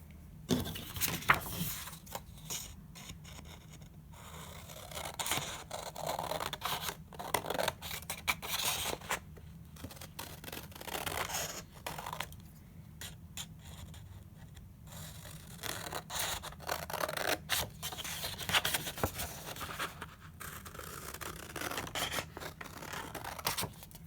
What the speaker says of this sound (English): take your scissors and cut out each of those strips.